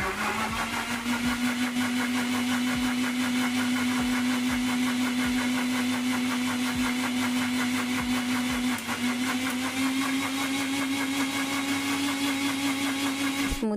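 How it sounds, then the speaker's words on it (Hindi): An electric blender whirs steadily at high speed through banana and water for a smoothie, a loud, even motor drone with a rhythmic churning pulse, close and alone throughout. "अब इसका कैप लगा के अब इसको हम करेंगे ब्लेंड।"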